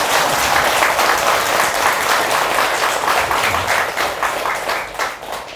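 An audience at a Buddhist dharma talk at Gaeunsa temple in Gimcheon applauds, a full, steady roar of clapping that tapers slightly at the end.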